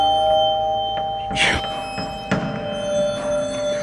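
An electronic bell-like ringing chimes over a quiet background, with a couple of soft knocks and clatters in between.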